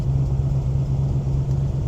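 A 1970 Ford Falcon's engine idles in a low, steady rumble with a constant droning hum, heard close and alone.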